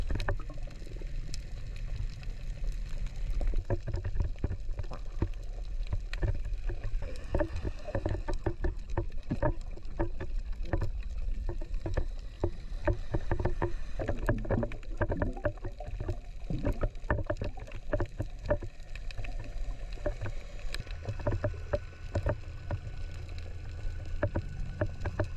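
A boat motors across the sea off Komodo National Park in Indonesia, its engine a steady low rumble mixed with continuous water and wind noise that stays loud and unbroken throughout.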